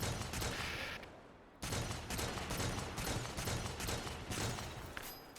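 Dense, sustained gunfire from a ranged weapon in the horror game I Hate This Place, loud and continuous shots with a brief dip in the middle before the firing resumes.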